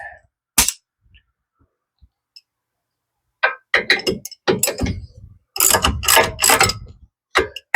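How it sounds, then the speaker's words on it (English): A ratchet wrench turns brake caliper bolts on a 2015 Hyundai Genesis 3.8L during a brake job: quick bursts of loud, rapid clicking from the pawl, separated by short pauses, close and alone, with isolated knocks early on. "Now we're back to our ratchet wrench."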